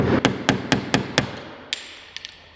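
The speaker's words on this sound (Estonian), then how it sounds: "Nüüd sa saad kõik pahtel ära lüüa siit." Hammer knocking body filler off an Infiniti G35 car body panel, five sharp evenly spaced metallic blows followed by a few lighter taps, close and loud in a workshop.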